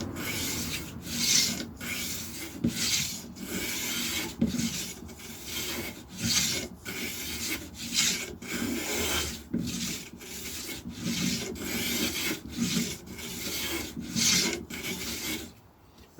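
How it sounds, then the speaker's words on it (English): A hand plane set to a very light cut shaves wood on a 1959 Les Paul Special guitar, giving steady, rhythmic rasping strokes about once per second, close and clear with no talking. "just hear how nicely that's planing, and I've got it on a very light cut"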